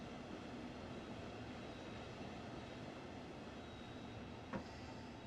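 An electric train in Train Sim World, running through Dresden local traffic in Germany, braking with a steady low rumble and rolling hiss, and a brief clunk near the end.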